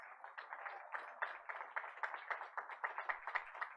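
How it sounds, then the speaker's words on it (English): Audience applause welcomes Diana Palacios at a Board of Education meeting: a steady, fairly soft patter of many hands clapping that holds evenly for several seconds with no voices over it. "Please help me welcome Diana Palacios with a round of applause"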